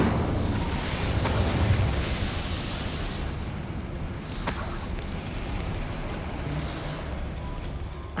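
Incendiary spell in Hogwarts Legacy bursting into a loud, rumbling fiery blast with crackling sharp pops, then sustained roaring flames fading over several seconds, alone without voices.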